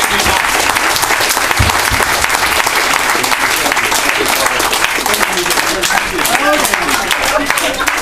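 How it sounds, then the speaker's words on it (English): A live magic show audience breaks into loud, dense applause for a volunteer named Kevin, sustained and energetic with scattered voices mixed into the crowd. "Give Kevin a massive round of applause."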